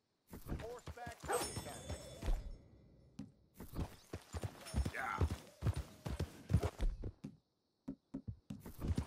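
Horse hooves clip-clop in Red Dead Redemption 2, a run of close, uneven thuds with brief gaps, while a voice speaks over parts of it.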